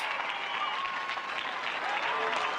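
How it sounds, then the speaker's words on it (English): Steady applause from an audience, a continuous dense wash of clapping at even loudness across the whole stretch, with some crowd noise mixed in. "Let's clap it up for that."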